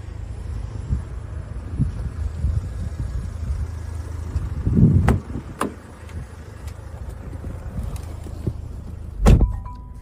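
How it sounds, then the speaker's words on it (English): The electric boot of a Jaguar E-Pace runs with a low motor hum and soft mechanical whirring, with a couple of clicks and a louder thump near the end as it latches, in a quiet outdoor setting. "As we approach the boot, we can see that it's electric."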